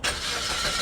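An automatic car at a car auction, started with the key, gives a short, loud, close burst of engine cranking and catching.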